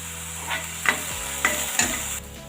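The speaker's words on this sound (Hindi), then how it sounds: "जब तक प्याज भून रही है" Onions frying in a pan until brown hiss steadily up close, with three evenly spaced stirring scrapes cutting through the sizzle.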